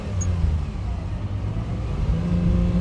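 A 1967 Ferrari 330 GTC with a rebuilt engine and gearbox drives winding roads, its steady low engine drone and road noise heard from inside the car at an even, moderate level.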